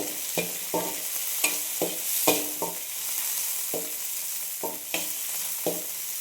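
Tomatoes sautéing in a pan for a manathakkali keerai kootu, with a steady soft sizzle broken by repeated scraping stirs of the spoon at an uneven rhythm, close and moderately loud, no talking.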